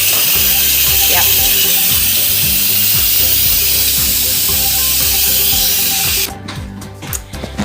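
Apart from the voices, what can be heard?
steam hissing from pressure cooker vent release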